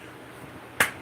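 Two light, crisp claps land close together near the end of a quiet moment, a sparse and polite golf clap.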